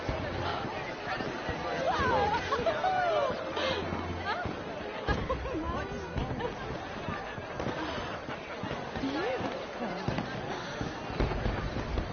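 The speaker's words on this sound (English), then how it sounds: "Let me enjoy the fireworks." Fireworks burst and crackle throughout a Red Dead Redemption 2 scene, with steady layered pops over a busy crowd murmur and character voices talking nearby.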